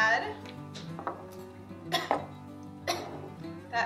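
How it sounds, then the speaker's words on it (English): A few short coughs and throat-clearing bursts, spaced out over a quiet kitchen background with faint clinks. "it's making me cough"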